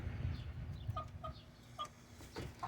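White leghorn and red hens about seventeen weeks old clucking in a hot coop, several short soft clucks and chirps spaced through the clip against a low steady hum.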